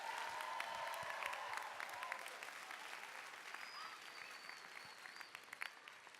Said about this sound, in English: Want to hear you all give everybody a big round of applause for what you did.